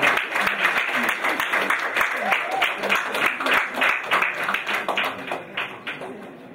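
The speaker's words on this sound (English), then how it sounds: "please give them a round of applause" Audience applause for Sales Masters at a company presentation, made of distinct rhythmic hand claps that pulse steadily, with voices and cheers mixed in.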